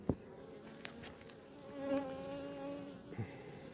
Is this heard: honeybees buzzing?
yes